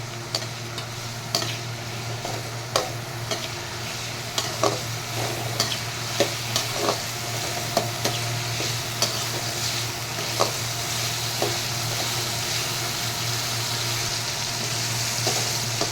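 Tomato sautéing in hot oil in a pan for chicken masala gravy, a steady close sizzle broken by frequent spoon scrapes and taps as it is stirred, with no talk.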